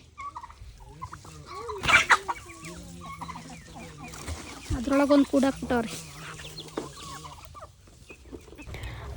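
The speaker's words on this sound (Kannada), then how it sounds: "ಚಿಕ್ಕ ಚಿಕ್ಕ ನಮ್ಮನೆ ಕೋಳಿಗಳು" Small chickens cluck in short bursts near the listener, mixed with other birdlike calls, while a person talks over them.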